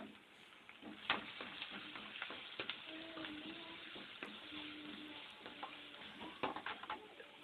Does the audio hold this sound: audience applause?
no